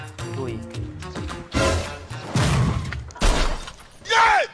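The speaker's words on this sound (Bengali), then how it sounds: "হ্যাঁ দাদা বাইকটা ফেলে দিলেন কেন?" A motorbike is dropped and crashes onto the ground, giving a sudden loud metallic clatter between stretches of conversation.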